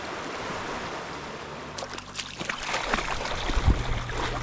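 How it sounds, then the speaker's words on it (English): Broad rushing wash of running river water on Vancouver Island, steady throughout with some brief splashes and thuds near the end. "the sound of running water is all around me"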